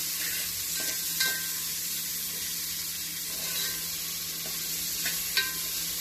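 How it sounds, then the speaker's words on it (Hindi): Onion fries on a slow flame in a pan, giving a steady moderate sizzle with a few soft stirring scrapes at intervals and a faint hum underneath. "स्लो फ्लेम पे हमको फ्राई करना है अनियन।"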